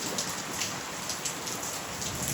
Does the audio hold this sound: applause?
no